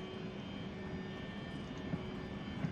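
Airliner engines in X-Plane 11 roar in a steady, loud, sustained drone with a whining tonal hum as they spool up for takeoff.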